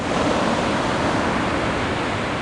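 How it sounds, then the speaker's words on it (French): Surf breaking at the Anglet beach on a July morning, waves around one metre, heard as a continuous loud broadband wash of water with no voices. "des vagues entre 1 m, 1 m 20, 1 m 30 sur les séries"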